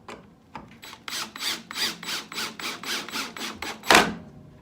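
Power drill driving drywall screws without pre-drilling into pine for a taper jig, a run of about eight rhythmic ratcheting bursts close up, ending in one louder, harsher burst.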